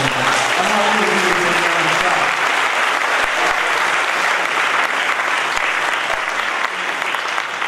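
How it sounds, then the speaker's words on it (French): Sustained applause from a church congregation, dense and steady clapping throughout with a few voices faintly mixed in. "On va applaudir bon Dieu pour ça."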